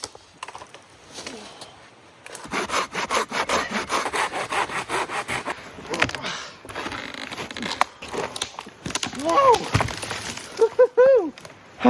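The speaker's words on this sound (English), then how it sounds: "Good thing I brought a handsaw." A handsaw rasps through a fallen tree in quick back-and-forth strokes, loud and close, followed by cracking as the tree gives way and a few shouts.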